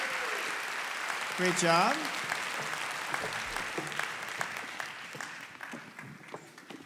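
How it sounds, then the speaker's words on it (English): Audience applause at a startup pitch night, steady clapping under a nearby voice speaking briefly, continuing throughout. "let's give a big round of applause"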